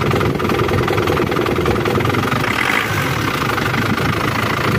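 A car engine idles steadily after a start, with coolant bubbling in the cooling system; the running hum stays close, loud and continuous throughout with no speech.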